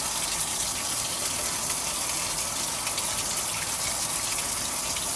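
Water gushes steadily from a faucet while dishes are washed at a home sink, a loud, unbroken close-up stream that stays level throughout.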